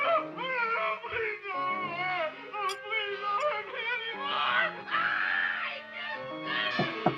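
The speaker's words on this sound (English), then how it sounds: "Screaming." A person screams and wails in a 1960 horror film, with long, pitched cries rising and falling through several seconds, loud and strained, with brief breaks and whimpers between bursts.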